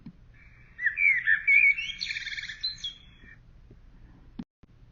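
A common blackbird sings one phrase of mellow, warbling whistles that turn into a quick, squeaky twitter before trailing off. The song sounds fairly close against faint low background noise, and a sharp click comes near the end.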